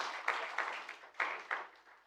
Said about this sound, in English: a round of applause for this